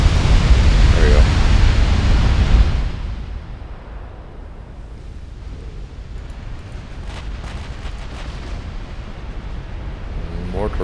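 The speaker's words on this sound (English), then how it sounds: "More torpedo hits, although on the already sinking battlecruiser" Torpedoes striking a sinking battlecruiser in the naval game Ultimate Admiral Dreadnoughts: a heavy, rumbling blast opens, then settles into a long low roar of churning noise, with a voice talking briefly.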